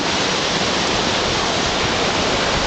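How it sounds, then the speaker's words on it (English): Water pouring over the spillway of the Lake Macbride dam, a dense continuous roar of rushing water, loud and close with no breaks. "And this is the dam"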